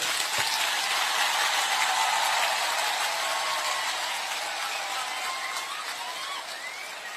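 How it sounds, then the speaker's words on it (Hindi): Broad, sustained audience applause at a Delhi event, a loud, even roar of many hands clapping that stays near constant and tapers slightly toward the end, with no talking over it. "सबसे बड़ा ताली आपको होना चाहिए"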